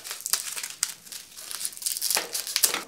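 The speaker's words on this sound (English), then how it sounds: "cutting the stems to the length you need" Dried flower stems being cut to length for a bouquet, with crisp crinkling snips and rustles of the brittle stems in irregular bursts, close and fairly quiet, with no talking.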